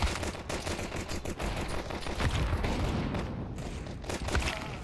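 Counter-Strike gunfire on the Dust 2 map, dense bursts of automatic rifle shots and sharp single cracks firing almost continuously, loud and close throughout.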